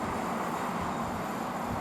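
A steady distant rumble of a passing train, continuous and even with no voices.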